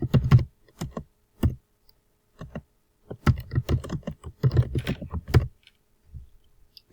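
Typing a test title on a computer keyboard, close soft key taps in short irregular bursts with pauses, then a quicker flurry of keystrokes.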